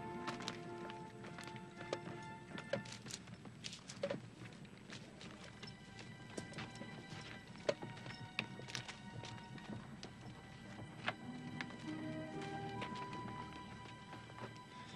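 Horses' hooves clip-clop steadily on the ground at an outback well during a wartime cavalry scene, with occasional neighs and rustling mixed in, moderately close and continuous throughout.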